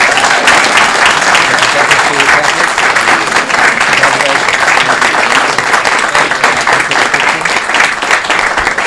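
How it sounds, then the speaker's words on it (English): Loud, dense applause from an audience at a city council meeting honoring a man on his proclaimed day, continuous clapping filling the room with crowd noise mixed in. "Round of applause for Patrick."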